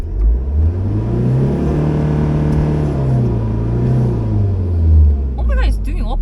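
A campervan engine revs while the brake is pressed, a fault on a UK van. A loud, steady engine drone rises and then sinks back, close and continuous, with brief faint voices near the end.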